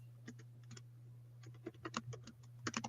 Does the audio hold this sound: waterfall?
no